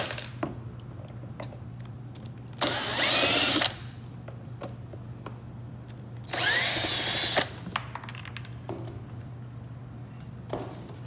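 Two bursts of a cordless power drill driving out mounting screws on a 2024 Toyota Tundra side mirror, each whine lasting about a second, close and loud over a steady low hum.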